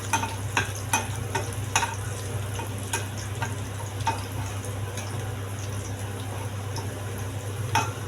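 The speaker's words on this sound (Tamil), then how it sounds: "கருவேப்பிலை வடகமும் நல்லா பொரியட்டும்." Vadagam and plenty of curry leaves fry in a pan for a village-style crab curry, a steady close sizzle with scattered sharp crackles and occasional stirring clicks.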